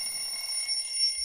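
Game show buzzer pressed, a steady electronic ringing tone that holds evenly for just over a second, moderately loud with no voices.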